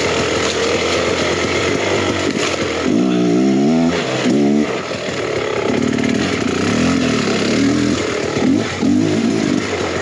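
Beta X Trainer 300 two-stroke dirt bike engine while riding, loud and close, revving up and down with rising and falling pitch sweeps and a sustained buzzing drone.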